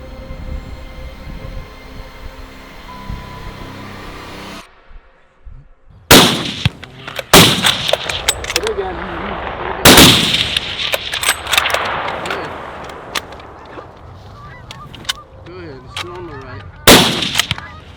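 Rifle shots fired at a bear during a hunt ring out as a handful of sharp, loud cracks spaced several seconds apart, after a stretch of quieter outdoor background.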